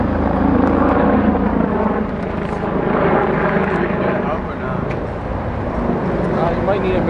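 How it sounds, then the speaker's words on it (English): Police helicopter coming in to land on a residential lawn, a steady loud rotor and engine roar filling the whole stretch, with people talking over it. "No way they're landing a helicopter here, bro."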